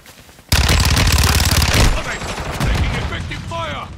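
Heavy automatic gunfire in Call of Duty: Modern Warfare 2 Warzone, a loud sustained burst of rapid shots that bursts in after a brief quiet stretch and rolls on for over a second, followed by scattered shots and game noise.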